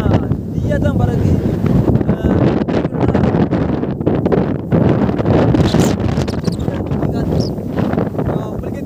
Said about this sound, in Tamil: அவ்வளோவும் காற்று தான் அடிக்கிற காற்று